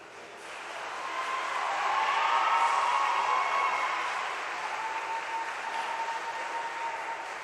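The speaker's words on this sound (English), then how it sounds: "let's give one more big round of applause" An audience at a college swim meet applauds, a steady broad wash of clapping that swells to a peak midway and then settles, with a faint tone running underneath and no talk.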